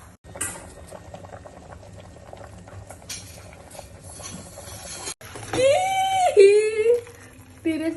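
Spaghetti boiling in a pot of water: an uneven bubbling and churning, close and moderately loud, with a brief break and then a high, whining voice-like sound over the bubbling near the end.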